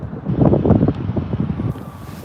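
Gusty wind buffets the microphone at Birmingham Airport, a rough low rumble that swells loudest early on and then settles into steadier blustery noise, with no talk over it.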